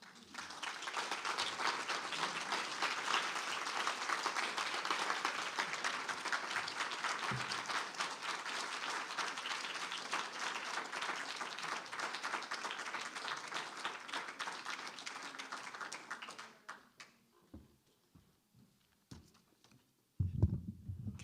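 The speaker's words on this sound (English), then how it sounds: "Can we please have another big round of applause for Pete Hocking, for Joan Wickersham, and for Rowan Ricardo Phillips." Sustained, dense applause from a faculty presentation audience, loud and steady for about sixteen seconds before thinning into scattered claps and a brief low thump.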